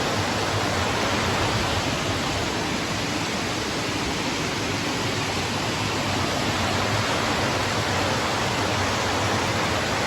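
Goraka Ella waterfall running with high water, a loud, steady broadband roar of falling water that holds unbroken and close throughout, with no talk.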